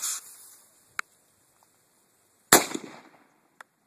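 A single loud gunshot cracks out during outdoor shooting with a family pair, a sharp close blast with a short echoing tail, set between a couple of faint clicks.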